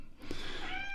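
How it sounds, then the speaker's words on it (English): A neighbour's cat gives one drawn-out meow close by indoors, a bright wavering cry that rises toward the end, with soft room noise behind it. "the cat's just walked in."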